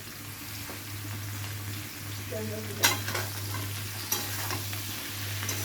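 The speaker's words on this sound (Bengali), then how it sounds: "এবারে সমস্ত সবজিকে একসাথে করে আবারও একবার ভালো করে ভেজে নেব" Mixed winter vegetables with eggplant and tomato fry in a pan with a soft, steady sizzle. A constant low hum runs underneath, and a few quiet stirring scrapes and clinks of the utensil come through.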